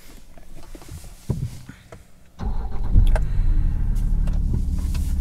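A car's electric door mirrors fold in on a 3-litre turbo diesel. After a few faint clicks, a steady motorised whirr starts and continues close by under a low engine hum.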